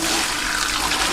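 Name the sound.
water being poured away into a sink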